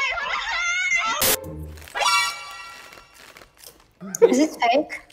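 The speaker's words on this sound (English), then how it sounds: "look at the little doggy" A small dog gives a few short yips near the end, mixed with crinkling and people talking nearby.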